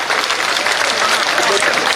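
A large crowd at an outdoor political rally claps loudly and steadily, a dense continuous wash of applause from many people.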